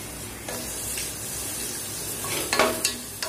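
Onion and green chilies sizzle softly in a hot pan, a steady frying hiss broken by a few stirring scrapes near the end, with no talk.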